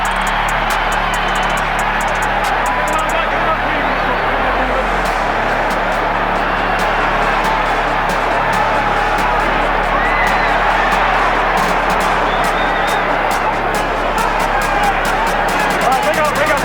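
A large boxing arena crowd roars and cheers continuously at a Mike Tyson vs. Larry Holmes fight, loud and sustained, with a commentator talking over the din.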